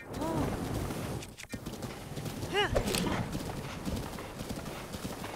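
A horse gallops across a plain in the video game The Legend of Zelda: Breath of the Wild, with steady rapid hoofbeats and a brief whinny, while someone talks over it.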